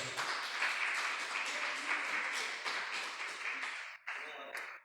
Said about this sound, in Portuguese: Vamos aplaudir bem forte ao nosso Deus.